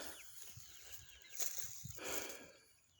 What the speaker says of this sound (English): And here's my barred rock biddies.